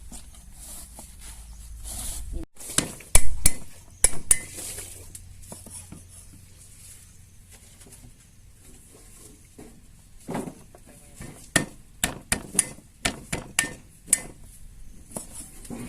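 Bursts of sharp pounding knocks, some loud and near, with a quieter stretch in between as bamboo shoots are struck repeatedly.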